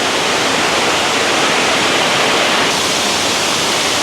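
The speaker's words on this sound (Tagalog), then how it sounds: "Maganda to yung Balabag Waterfall" The Balabag Waterfall in the Philippines roars steadily nearby, a dense, constant rush of falling water with no pauses and no voices.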